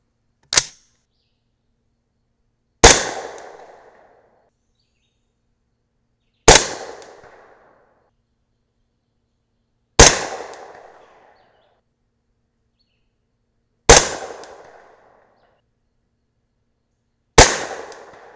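Six suppressed shots from a 300 Blackout rifle firing 220-grain Nosler Ballistic Tip subsonic rounds, each a sharp close crack with a brief decay, spaced a few seconds apart with silence between.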